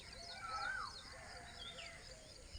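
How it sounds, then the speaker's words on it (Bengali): A koel calls in a quiet village, its faint, distant rising whistled notes repeating a couple of times over soft background hush. "কি সুন্দর কোকিলের ডাক হচ্ছে"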